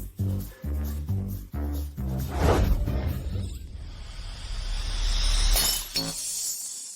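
A crystal glass from a costly imported set shatters, with a few heavy knocks leading into a bright, loud crash and a second burst of breaking glass that trails into scattered tinkling.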